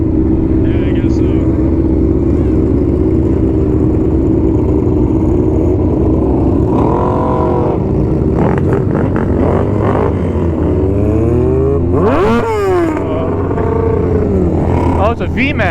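A Yamaha VMAX motorcycle engine runs loud and close in a steady, heavy rumble, with revs swelling and falling in rising and sliding tones toward the end.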